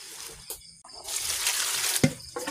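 Tap water runs steadily into a sink while vegetables are washed, a broad continuous trickle with a brief splash near the end and short pauses at the start.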